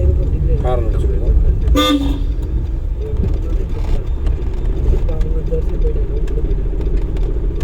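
A short car horn blast sounds once, nearby, during a driving lesson in traffic, with steady engine and road noise under an instructor's talk.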